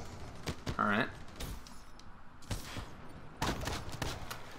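Rapid gunfire from the video game Black Ops 3 comes in a few short bursts and sharp single shots, mixed with other game sounds while a player talks excitedly over it.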